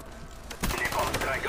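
A Mac-11 submachine gun firing in a shooter game, a short rapid burst of shots mid-action, with faint game noise and a voice nearby.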